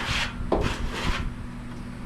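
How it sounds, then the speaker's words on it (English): A tool scrapes the inside of a Camp Chef pellet grill in a few short, rough rasping strokes, close and moderately loud, with no talk. "we're just gonna scrape it down inside"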